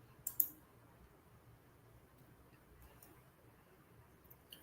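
A few faint computer mouse clicks, one sharp pair near the start and softer single clicks later, sound against a quiet room hum while docking software is operated.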